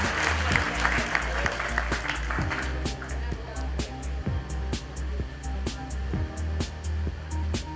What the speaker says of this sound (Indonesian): Mari kita beri aplaus untuk